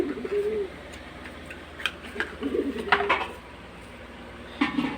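A pet pigeon gives several soft coos close by while drops are put in its sore eyes, with light handling clicks and taps between calls.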